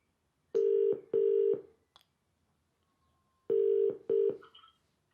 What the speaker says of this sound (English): Alexa, call Jaden. Calling Jaden's mobile